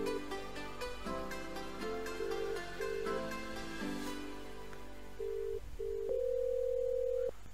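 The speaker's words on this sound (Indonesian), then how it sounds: "Nah, ini ada nada dering." VoIP ringing tone on a Trixbox phone system, repeated short tonal beeps in a regular pattern, ending in a longer steady tone, with faint background noise.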